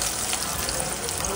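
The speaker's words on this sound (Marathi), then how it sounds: "डीप फ्राय नाही करायचे, शॅलो फ्राय करायचे शक्यतो." Breaded hotel-style starters shallow frying in oil in a home kitchen, a steady dense sizzle and crackle throughout, fairly close and alone with no talk.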